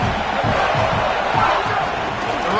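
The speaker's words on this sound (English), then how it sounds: "the home crowd going absolutely bananas" A home crowd at a football game roars loudly and continuously, a dense wall of cheering and shouting that swells slightly without pause.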